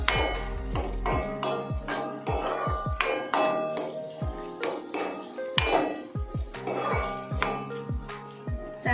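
Egg mixture being mixed in a metal pot, a run of sharp ringing clinks and taps from a utensil striking the pot's sides in an irregular rhythm, close and clear with no talking.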